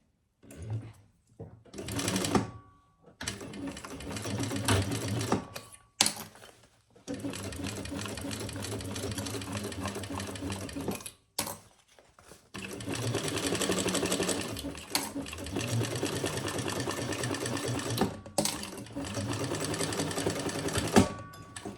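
A sewing machine stitches the lining of a leather crossbody bag, running in several long buzzing bursts broken by short pauses, close and loud.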